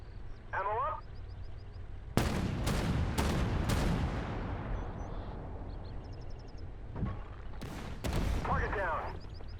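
Repeated loud blasts from a 2S9 Nona self-propelled mortar in the tank game Armored Warfare, several sharp booms in quick succession around the middle and two more near the end, each with a rumbling tail.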